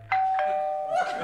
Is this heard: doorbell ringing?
yes